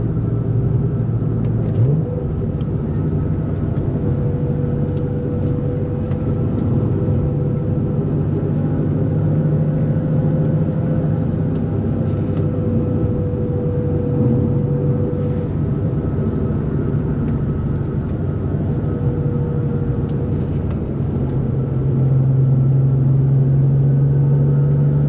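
A 2004 Nissan 350Z drives at steady speed, giving a continuous low engine drone and mild exhaust hum with a slight pitch rise near the end. No voices are heard.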